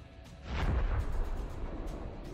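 A HIMARS rocket strike on a radar station, heard as a distant, muffled explosion that swells into a deep rumbling boom and slowly fades, fairly quiet overall.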